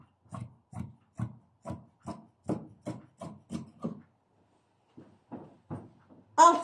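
Scissors cutting doubled-over pajama fabric for the front leg of a side-seamless pajama, about a dozen crisp, evenly spaced snips close up, then a short pause and a few more cuts.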